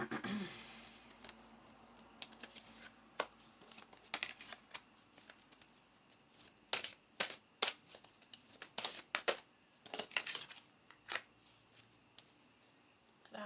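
Tarot cards shuffled by hand in a deck, giving repeated crisp riffling and slapping bursts that grow denser and louder midway, close up with a little background noise.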